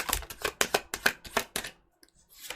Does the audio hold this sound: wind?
no